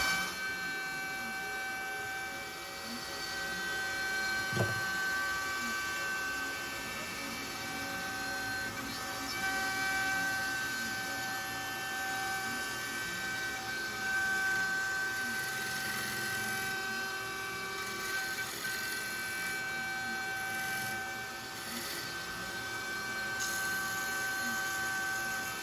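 A CNC machine mills small track parts for a WW2 Tiger 1 tank model, producing a continuous low-level whir with steady tonal hums and faint intermittent cutting noise running throughout.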